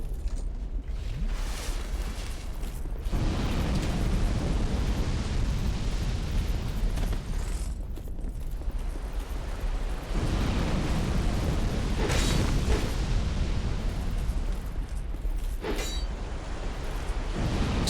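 Old Iron King boss in Dark Souls 2 unleashing repeated fire attacks: loud, sustained roaring eruptions and fiery bursts with deep rumbling booms that swell and recede continuously, no talk.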